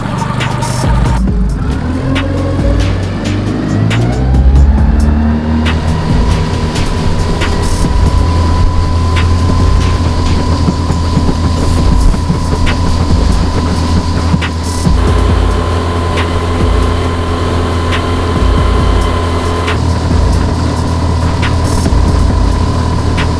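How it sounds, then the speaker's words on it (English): A new Suzuki outboard motor idling during break-in, a loud, steady mechanical drone with a low throbbing hum and a faint whine that settles after the first few seconds, continuous with no voices. "So this little motor is just running"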